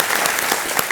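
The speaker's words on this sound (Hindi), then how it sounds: "बहुत जोरों से ताली बजाई आपके परिवार ने" Loud, steady applause from a contestant's family in a KBC quiz show studio, a dense, continuous clapping that fills the brief moment without any talk.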